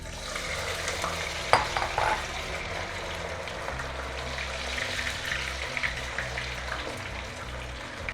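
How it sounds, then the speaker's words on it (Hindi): Chilli chicken pieces, about 180 to 200 grams of partly cooked boneless chicken, get their final fry in hot oil, a steady broad sizzle with a couple of sharp clinks or stirring knocks near the start, no voices. "अब इसको हम कर देंगे फाइनल फ्राई।"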